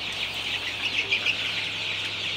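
Sonali chickens clucking in their shed, a steady close chorus of overlapping clucks and soft calls with no talk.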